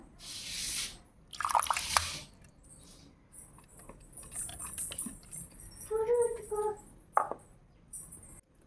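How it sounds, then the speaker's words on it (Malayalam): Washed fenugreek seeds tipped into rice gruel in a clay pot for uluva kanji, giving soft wet squishes and drips with small clinks, moderately close and unsteady, without speech. "ഇനി നമുക്ക് അതിലേക്ക് കഴുകി വെച്ച ഉലുവയും കൂടി ചേർത്ത് കൊടുക്കാം"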